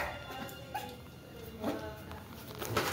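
Two small pet dogs whimper and yip softly nearby in short, intermittent bursts over a low background hum.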